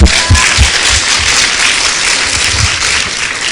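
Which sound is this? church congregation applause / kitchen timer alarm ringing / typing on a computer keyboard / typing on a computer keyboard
church congregation applause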